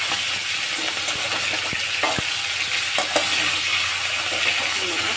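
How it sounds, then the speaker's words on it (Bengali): Hilsa fish frying in hot oil, a loud, dense sizzle crackling steadily and close, broken by a few sharp clicks and taps against the pan. "ইলিশ মাছটা একটু করে ভেজে নেব"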